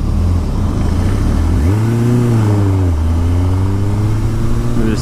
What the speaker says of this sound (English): a Kawasaki Z750S. My dad's bike.